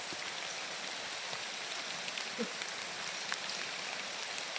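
Steady rain falls throughout, a dense, even hiss with occasional soft drop taps, moderately quiet and unbroken.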